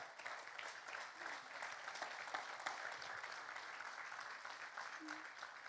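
Congregation at a pastors and leaders church convention applauding, a dense continuous wash of clapping at moderate, even level for several seconds.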